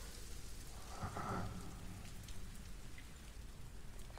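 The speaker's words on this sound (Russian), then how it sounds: "Лови, лови, лови, сейчас под дождик убежит." Rain in the video game Death Stranding, a steady soft hiss of falling drops with a brief low rumble swelling near the start, faint and without voices.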